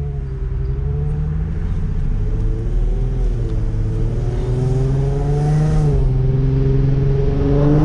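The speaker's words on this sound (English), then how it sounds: "When I hit the gas, it gets up and he goes." Infiniti G35 coupe fitted with a JDM engine revs and accelerates on a drive, a steady close engine drone whose pitch climbs, dips briefly and climbs again, heard alone without talk.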